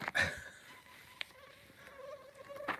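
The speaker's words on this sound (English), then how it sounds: "Oh, mosquitoes are bad." Faint high whining of mosquitoes and other insects flying around outdoors at night near lights in New Brunswick, Canada, with a brief buzz passing close at the start and soft rustles in a quiet background.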